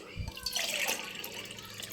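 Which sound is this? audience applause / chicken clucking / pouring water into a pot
pouring water into a pot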